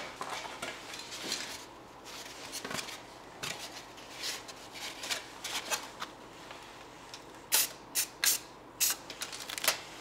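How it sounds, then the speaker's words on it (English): Short hissing bursts of yellow spray paint hit a model plane over a foil-and-tape mask, quiet at first and then several sharp, close sprays packed into the last few seconds. "I'm just going to shoot my yellow spray paint right where I've got my temporary mask"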